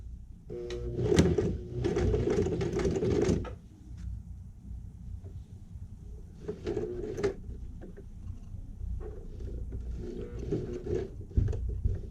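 A sewing machine stitches a wallet in short mechanical bursts: a long run near the start, then briefer stop-start runs with pauses between them, close and moderately loud.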